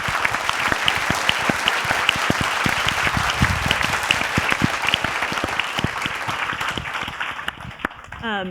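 A science festival audience applauds a panelist with a dense, loud roar of many hands clapping that stays steady and then tapers off near the end.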